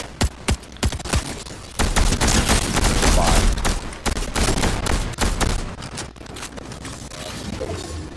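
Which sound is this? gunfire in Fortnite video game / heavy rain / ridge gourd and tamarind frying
gunfire in Fortnite video game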